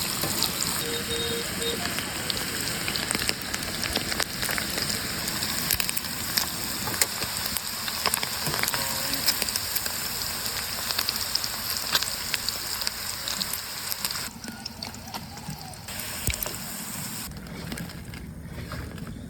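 Bitter gourd slices frying in oil, a continuous dense sizzle and crackle close by that thins slightly toward the end, with no talking.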